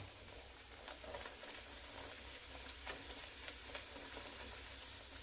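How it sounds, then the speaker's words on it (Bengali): Dal puri deep-frying in hot oil gives a steady, even sizzle with faint bubbling crackles and a few sharper pops, fairly quiet and constant throughout, with no voices. "সমস্ত পুরিগুলোকে আমি আগে ভেজে নেব"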